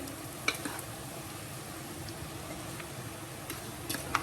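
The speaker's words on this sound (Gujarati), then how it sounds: "આ તો આપણો ઘી ગરમ છે એટલે એમાં બબલ્સ આવે છે" Semolina sizzling in hot ghee for rava laddu after the gas is switched off, a soft continuous frying hiss with small bubbling pops and a few faint clicks, no talk.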